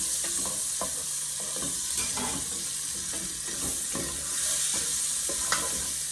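Bacon browning in a soup pot for broccoli cheddar soup, sizzling and frying steadily while a spoon scrapes and stirs through it in repeated close strokes, with no talking.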